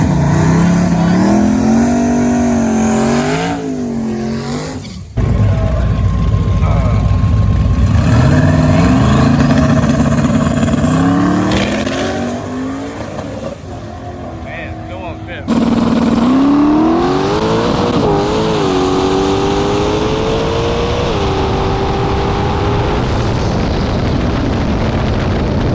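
A drag race car on a two-step set near 3,800 rpm, aimed at a six-second pass: a loud, sustained engine roar holding at the limiter, then surging through rising revs, with a brief dip midway before the roar returns and runs on.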